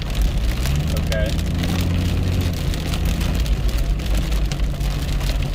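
Steady rain drums on a car roof, a dense constant patter with a low rumble beneath, close and loud throughout.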